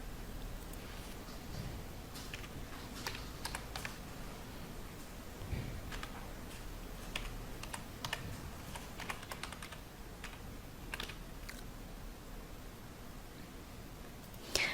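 Someone types an email address on a computer keyboard, with steady, quiet clicking keystrokes in irregular bursts throughout, heard close and alone over faint background hiss.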